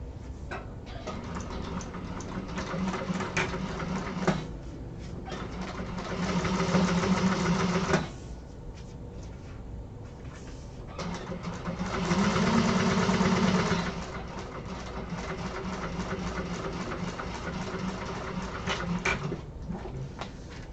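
Close sewing machine stitching fabric panels on an apothecary-style bag exterior runs in several bursts, with two louder, denser stretches and short pauses between runs of rapid, even needle chatter.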